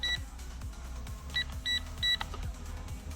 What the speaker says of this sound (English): This top right hand button here, got the beep.